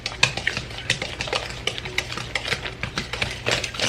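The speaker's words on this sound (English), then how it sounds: "Stir this all up." Spoon stirring blueberry muffin batter flavored with vanilla, a steady run of soft scraping and clinking strokes against the bowl, close and fairly loud with no talk.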